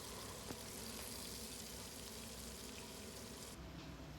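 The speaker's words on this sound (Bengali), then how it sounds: "2 থেকে 3 মিনিট হালকা লাল করে ভেজে নেব চিংড়িগুলো।" Prawns frying in hot mustard oil, a steady dense sizzle and crackle that holds evenly throughout, close and fairly loud with no talking.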